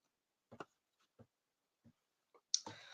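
Several soft, sparse mouse clicks on a button on the Premier League website, a few isolated taps spaced apart, followed by a brighter sharper burst at the end.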